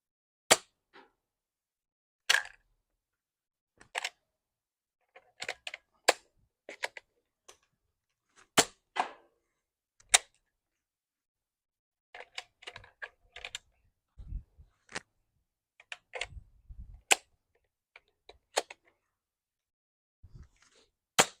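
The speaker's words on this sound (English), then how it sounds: "using these orange Nerf darts to see what happens. And we're going back to shooting both at the same time." A Nerf DX12 double-barrel blaster firing orange darts from both barrels, heard close up as sharp, dry clicks and snaps scattered irregularly with quiet gaps between them.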